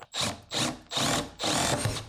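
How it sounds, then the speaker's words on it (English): A power drill drives a screw into MDF or plywood with no pilot hole, running in four short whirring bursts separated by brief pauses, close and fairly loud. "We'll do a screw in here without any pre-drilling to start off with."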